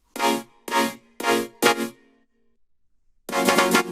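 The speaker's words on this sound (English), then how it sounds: "And then mixing that with another super saw synth" Bright super saw synth chords for width in an electronic track: four quick punchy stabs, a pause, then a longer sustained chord, played alone.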